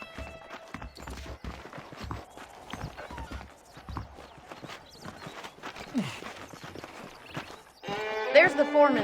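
Horse hooves clip-clop steadily in the Red Dead Redemption video game, a close, rhythmic stream of hoofbeats with a horse neighing and game dialogue over it, ending in a louder burst of busy sound.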